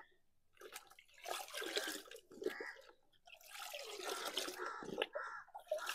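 A jaggery solution dissolved in water is poured into more water while making leaf compost for plants, quiet irregular splashing and gurgling in uneven bursts with short pauses between them.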